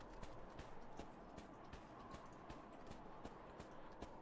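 Horse hooves clip-clop at a steady, even pace in the video game Final Fantasy 14, the footfalls regular and distinct over a faint low hum, quiet overall.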